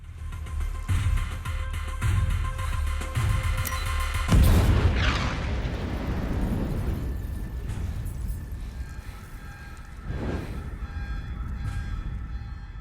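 A deep boom from a film explosion erupts partway through, followed by a long rumbling roar and debris-like noise, then a second lower thud fades out.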